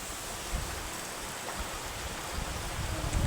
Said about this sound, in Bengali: এই দেখো বৃষ্টি হচ্ছে কি পরিমাণে